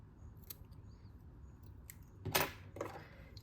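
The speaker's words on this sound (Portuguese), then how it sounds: "vou cortar o excesso desse fio" Scissors snip through excess nautical cord on a crocheted bag, two quick close cuts in succession over a quiet background.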